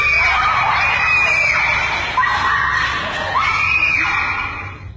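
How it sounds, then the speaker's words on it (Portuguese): Several people scream and shriek together in the dark during a scary-story session, loud and continuous, with high wavering cries rising and falling over about five seconds. "A luz se apaga e eles começam a gritar."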